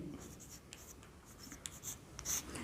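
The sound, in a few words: writing an answer on paper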